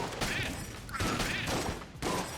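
Pox cannon firing in the game Enter the Gungeon: dense bursts of loud blasts in a rapid fusillade, with short gaps between volleys.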